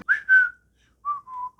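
Two short whistled phrases from the song in Monty Python's Life of Brian, each a pair of clear, bright pitched notes, the second pair lower, played alone and close with a pause between.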